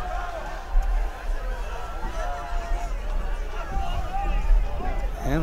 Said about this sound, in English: the Lockhart crowd giving it to the refs on what was a pretty obvious false start